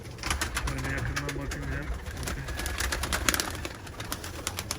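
Pigeons coo steadily and close by, with soft flapping and rustling mixed in and quiet voices in the background.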